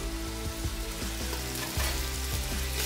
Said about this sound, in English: Okay, now this will sear much faster.